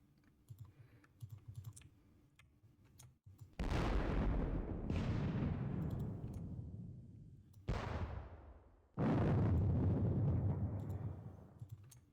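Second Corps artillery fires in a Gettysburg wargame set at dawn on July 2nd. Faint clicking gives way to four loud cannon booms, each trailing off in a long rumbling decay.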